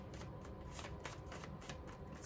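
Paper tarot cards being shuffled by hand, a continuous close riffling and flapping with soft rhythmic bursts, heard alone.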